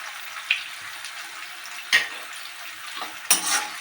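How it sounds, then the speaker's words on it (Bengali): Sliced onions fry in a pan with a steady, soft sizzle, broken by a few sharp clinks of a utensil against the pan during stirring. "এবার বন্ধুরা কিছুক্ষণ আমাকে পেঁয়াজটা ফ্রাই করতে হবে"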